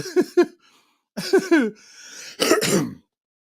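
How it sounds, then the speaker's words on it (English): Several rough throat clearings in short bursts separated by pauses, close and fairly loud, with no talking. "Y'all hear me keep clearing my throat, man."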